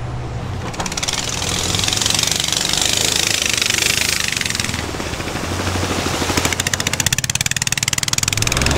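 Loud boat engines roar on Tonle Sap lake, a steady close rattling drone with a fast chugging pulse that swells and dips slightly, with no voices over it.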